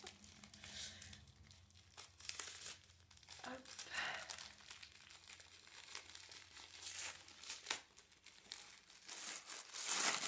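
Gift wrapping paper crinkles and tears in repeated bursts as a present is opened, close and fairly loud, with a voice speaking at times over the rustling.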